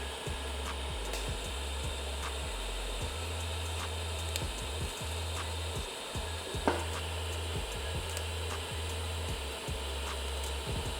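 A custom exhaust pipe is TIG welded without filler rod, giving a faint, steady buzzing hum with occasional light clicks and rubbing sounds. No voice is heard.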